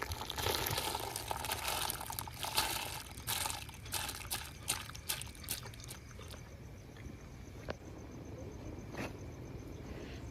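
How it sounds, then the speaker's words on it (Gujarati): Lentils are tipped into hot water to soak, a continuous rushing pour with scattered small splashes and clicks that thins into a quieter trickle toward the end. "જે ગરમ પાણી આપણે મૂક્યું છે તેની અંદર આપણે એ દાળને એડ કરી દઈશું"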